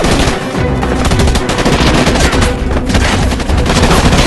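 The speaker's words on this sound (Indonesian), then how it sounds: "Terjadi baku tembak yang sangat sengit" An intense gunfight erupts in an action film about American Marines holding off an attack, with loud, relentless machine-gun bursts and overlapping shots filling the scene without pause.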